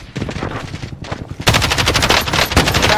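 Rapid automatic gunfire in the Call of Duty Warzone video game, dense bursts of sharp shots, loud and close, with the fire growing heavier after a brief lull.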